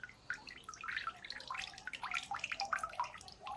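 Water drains out through the porous soil of an indoor potted plant, making irregular trickles and small splashing drips that stay close and fairly quiet.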